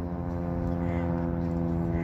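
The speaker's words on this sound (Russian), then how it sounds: "теперь самолет летит." An airplane flies over a riverside embankment, giving a steady, fairly loud low droning hum with layered harmonic tones that holds unbroken for the whole stretch.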